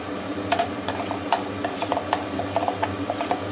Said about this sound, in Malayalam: ഇനി നമുക്കിത് നന്നായി ഇളക്കി യോജിപ്പിച്ചെടുക്കണം